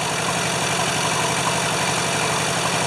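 A rusty Hinomoto tractor idles steadily, a low, even engine drone holding at a constant level from start to finish.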